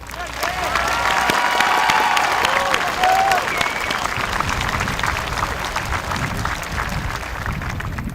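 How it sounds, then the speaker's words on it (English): An audience at a high school commencement claps steadily, a dense wash of applause with a few voices and cheers mixed in near the start. "Please join us in applauding their work"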